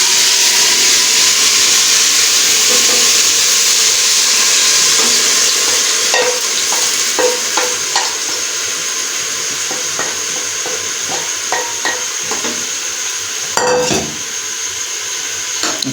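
Onions browned to golden and tomatoes fry together in a pot for Karachi beef biryani, giving a steady broadband sizzle throughout with repeated scrapes and clinks of a spoon stirring in the latter half.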